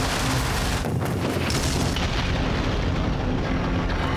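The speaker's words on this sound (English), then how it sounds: "Some cool explosion shots in this episode." A deep, rumbling pyrotechnic explosion from the TV series The Musketeers roars and sustains, its heavy low boom filling the whole stretch with dense, noisy energy.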